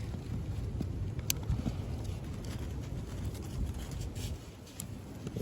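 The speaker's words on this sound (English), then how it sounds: "stand close because the wind is strong" Strong winter blizzard wind buffets an outdoor campsite, roaring as steady broadband rumble and microphone gusts throughout, with brief clattering knocks over the top.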